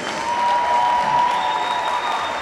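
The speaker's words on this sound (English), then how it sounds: "Please give her the applause that she deserves." Crowd applause fills a high school girls basketball game gym, steady clapping throughout with a faint tone ringing underneath.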